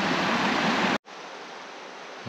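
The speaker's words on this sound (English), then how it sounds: "A really pretty creek." Pretty mountain creek on a hike toward Abrams Falls, its water rushing in a steady broadband hiss, close and fairly loud, with a brief cut at one second before the flow continues slightly softer.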